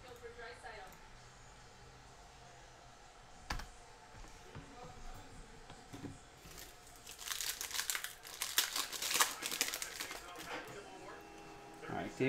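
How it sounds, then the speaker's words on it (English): Foil wrapper of a 2019 Panini Optic football hobby pack being torn and crinkled open, a run of sharp crackling bursts growing louder toward the end, close to the mic with no talk over it. "let's just print that out and rip open this pack"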